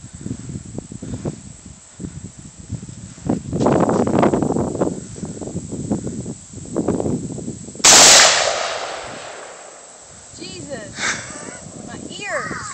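An AR-15 rifle fires one loud, sharp shot outdoors, a sudden close crack that rings out and fades, with people talking before and after it.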